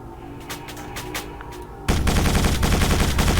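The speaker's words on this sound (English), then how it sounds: "Who is shooting at me?" Turrets in Quake 4 open up with dense, rapid automatic gunfire that bursts in suddenly and loudly after a quieter stretch of scattered shots, continuing as a relentless rattle.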